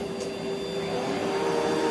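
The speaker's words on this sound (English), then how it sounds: "And I sit right here and vacuum" A Rainbow vacuum cleaner's powerhead runs steadily as someone vacuums, giving off a loud, continuous motor drone with airy hiss that keeps an even level throughout.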